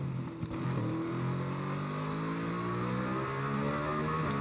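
Norton motorcycle engine in TT Isle of Man 2, a steady mid-pitched drone with rising harmonics as it accelerates, close and continuous with a brief dip near the start.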